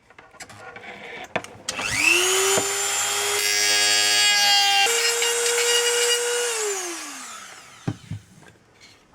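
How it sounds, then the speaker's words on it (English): Dremel rotary tool cutting an RC car battery tray, a high whine spinning up, grinding steadily for several seconds with shifting pitch as it bites the plastic, then winding down, close and loud. "going to use the Dremel for this"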